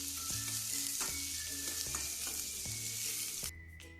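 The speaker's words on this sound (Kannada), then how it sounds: "ಹಸಿಮೆಣ್ಸಿಕಾಯಿ, ಕರಿಬೇವನ್ನ ಹಾಕಿ ಚೆನ್ನಾಗಿ ಇದನ್ನು ಒಂದು 2 ನಿಮಿಷ ಫ್ರೈ ಮಾಡ್ಕೋಬೇಕು" Onions, dals, green chillies and curry leaves fry in a pan, a close, loud, continuous sizzle broken by rhythmic scraping stirs about every second, then quieting sharply near the end.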